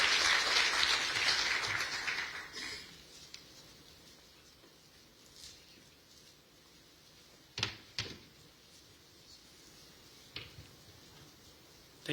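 Applause from an audience for the first couple of seconds, fading into a quiet room with a few scattered knocks and clicks.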